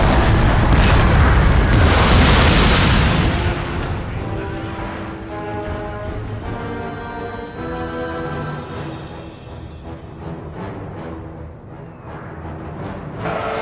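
Artillery fire in a Total War battle of Napoleon's army against Russia at Friedland in 1807, heavy booming blasts that roll into a dense, sustained rumble of distant battle noise, with no talking.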